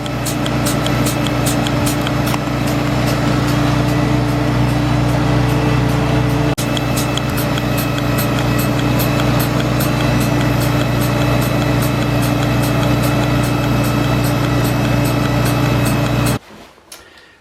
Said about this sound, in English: you can run a milking machine off of a tractor